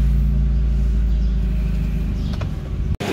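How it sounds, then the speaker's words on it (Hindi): A Honda Civic EF idles with a deep, steady exhaust rumble from its silencer, close and loud, cutting off abruptly near the end. "तो फिर तो ये साउंड है सिलेंसर का"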